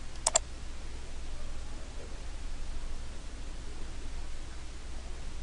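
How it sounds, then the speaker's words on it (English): A single sharp mouse click on a computer's Publish button snaps out once near the start, then only a steady, faint hiss of room and background noise follows with no talking. "once I'm done with that, I'm going to go ahead and click Publish."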